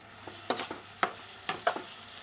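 Fried prawns being stirred with taro stolons in a pan: a handful of sharp spatula scrapes and knocks in quick bursts over a faint background sizzle.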